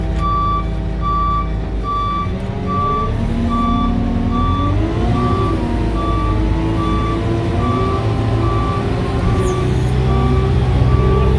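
A Sherp 10x10 off-road truck backs up with a loud, evenly spaced reversing beep repeating over its steady, rumbling engine drone, close by and without talk.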